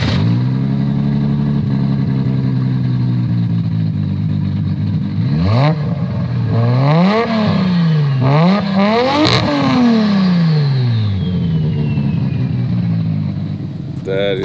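A 1994 Nissan R32 GTR with its RB26 engine idles, then is revved several times, loud close rising and falling blips over a steady burble, with people talking nearby.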